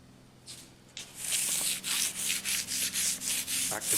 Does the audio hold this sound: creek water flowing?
no